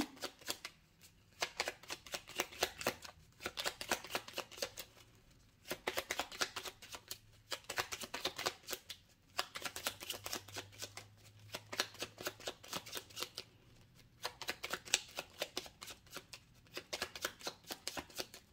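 A deck of tarot cards is shuffled over and over in a run of quick riffling bursts with short pauses between them. The sound is close but soft and quiet, with no talking.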